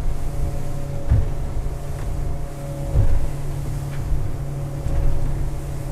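A Suzuki outboard motor drives a Bénéteau Antares 7 boat at sea, humming in a steady, restrained drone with faint periodic thumps of hull and water over a breezy background.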